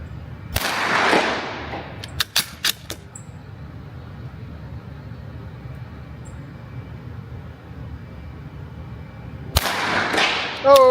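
CCI Mini Mag rimfire rounds fired outdoors: one sharp report near the start, a quick cluster of three or four cracks a second later, then another shot near the end, each standing alone against a quiet background.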